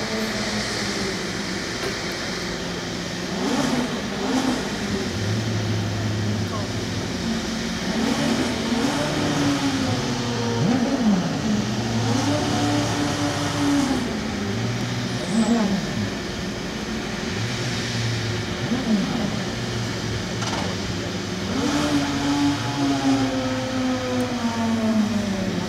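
A Weider Honda HSV-010 race car on a demonstration run revs repeatedly, its engine pitch sweeping up and down over a steady roar, with an announcer talking over it.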